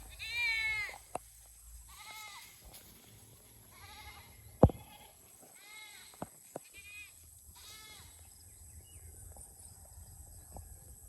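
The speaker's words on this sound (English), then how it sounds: "We found where all the goats hang out." Several goats bleat in a rural Philippine province setting, their wavering calls repeating at intervals, fairly distant and faint over soft outdoor ambience with a few small knocks.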